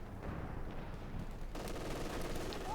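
Sustained .50 cal machine gun fire from Company of Heroes 2 battle, a dense continuous rattle mixed with distant combat noise, growing brighter and busier partway through, no voices.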